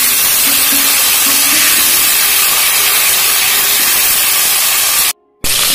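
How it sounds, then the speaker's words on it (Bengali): Cauliflower florets fry in hot oil for aloo phoolkopi dalna, giving a steady, loud sizzling hiss that runs evenly throughout before cutting out briefly near the end. "আলু ফুলকপি ডালনার জন্য প্রথমে ফুলকপিটা ভেজে নেওয়া হচ্ছে।"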